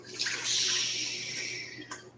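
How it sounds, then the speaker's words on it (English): Homemade Polish cherry cordial poured through a strainer into a bowl, a soft, steady splashing trickle of liquid that swells and fades over a couple of seconds, close and fairly quiet. "And I'm just going to pour this,"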